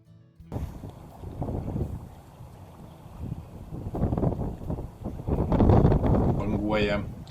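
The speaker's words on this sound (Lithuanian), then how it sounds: "iš tikrųjų vėjuota diena ir netgi toks nedidelis tvenkinys taip pat banguoja" Wind gusts roar across a small pond at Naisiai in Lithuania on a windy day, with rippling water and steady low buffeting that swells louder toward the end, where a short voice briefly breaks in.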